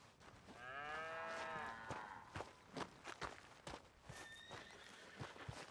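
Cows low on a farm, one long drawn-out moo up front followed by a second shorter call, with shuffling hoof steps and scattered thumps around them.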